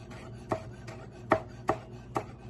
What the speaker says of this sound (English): trim these beautiful basil leaves into little ribbons